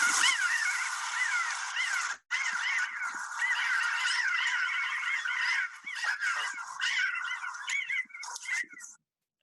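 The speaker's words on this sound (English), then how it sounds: "how a pinyon jay flock sounds when they're flying over" A flock of pinyon jays flies overhead, giving a dense, continuous chorus of overlapping nasal, rising calls, fairly close and loud throughout, thinning slightly near the end before stopping.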